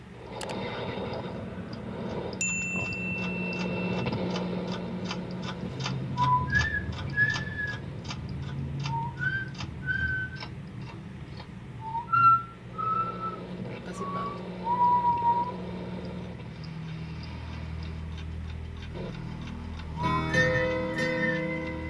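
A person whistles short melodic phrases along with a song's background music, the whistled notes bright and close over the ongoing track.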